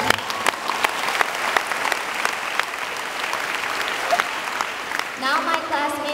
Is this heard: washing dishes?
no